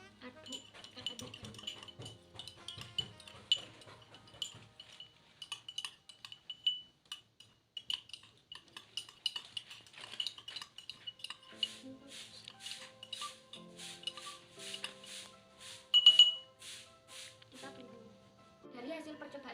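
A spoon stirs rice with a few drops of betadine solution in a glass, giving soft, intermittent clinks and taps that turn into a quicker run of light ticks near the end, under occasional speech.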